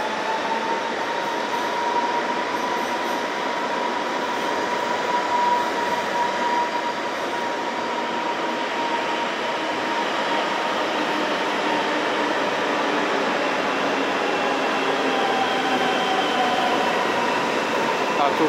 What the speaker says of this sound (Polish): I rusza pociąg kolei małopolskich do Kraków lotnisko Balice.